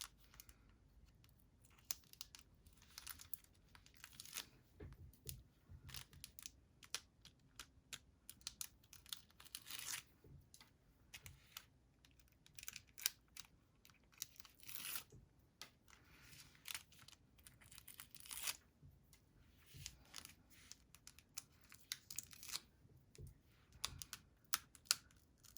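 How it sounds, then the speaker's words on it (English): Tear and tape backings being peeled off a handmade card, a quiet series of irregular crinkling tears and small paper clicks spread across a long stretch, no talk. "Let's take off all those backings."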